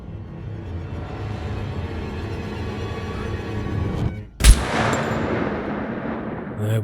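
A single M1 rifle shot rings out in a survival video game, a sharp loud crack midway that decays with a reverberant tail, preceded by a steady ambient outdoor hum.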